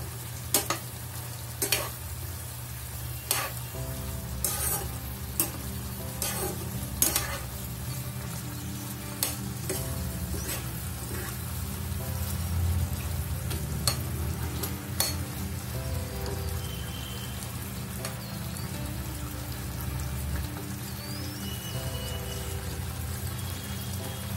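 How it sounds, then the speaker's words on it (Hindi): Sugar syrup for lauki petha cooks in a pan while a spoon stirs it. Sharp metallic clinks and scrapes come early, then a steady, close bubbling simmer carries on alone. "अब इसको हिलाते हुए थोड़ा पकाना है हमें।"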